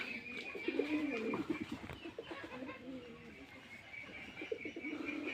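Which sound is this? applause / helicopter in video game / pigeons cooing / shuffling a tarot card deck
pigeons cooing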